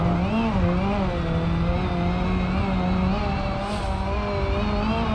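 A 6.9-liter Gavril Grand Marshal car engine drones and revs continuously in the video game BeamNG.drive, with a rising and falling pitch, steady and close, with a brief faint hiss near the end.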